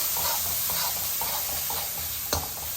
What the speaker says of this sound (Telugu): ఇప్పుడు మనం అల్లం వెల్లుల్లిపాయ పేస్ట్ కూడా వేసుకున్నామంటే రెండు కలిపి వేగుతాయి అనమాట